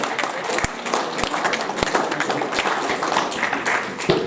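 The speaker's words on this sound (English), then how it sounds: "let's give everyone who's received one today a round of applause" A small group applauds at a school senior assembly with scattered, uneven claps and a few sharper hand slaps, fairly close, lasting a few seconds.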